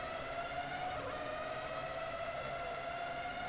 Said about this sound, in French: il freine, il y a un virage